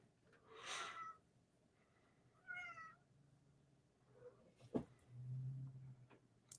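A cat meows twice indoors, a loud drawn-out cry followed by a shorter harmonic call, then a sharp click and a low hum in a quiet room with no talking.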